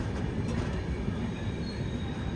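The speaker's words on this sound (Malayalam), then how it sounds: "റെയിൽവേ സ്റ്റേഷനിലേക്ക് ഇതാ ട്രെയിൻ എത്തിക്കൊണ്ടിരിക്കുകയാണ്." Railway carriages keep up a dense, steady rumble as a train pulls into Ajmer station among the hills, with one faint squeal early on and no voices.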